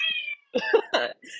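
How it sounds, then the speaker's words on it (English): A pet cat gives a few short, close meows in quick succession, loud and clear against silence, each lasting a fraction of a second. "That's my cat. He's saying hello"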